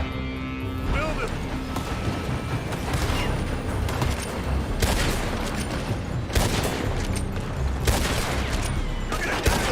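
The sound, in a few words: gunfire in video game Red Dead Redemption 2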